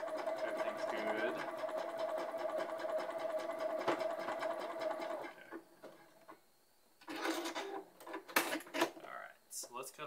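A sewing machine runs a very small straight stitch on a long-sleeve garment. It whirs continuously for about five seconds, stops, then restarts in a few short bursts, and a voice can be heard faintly.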